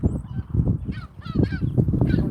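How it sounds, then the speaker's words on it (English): Seagulls flying around a park give several loud, close honking calls in irregular bursts over a dense low rumble of outdoor background noise, with no talking. "there's like a whole bunch of seagulls flying around"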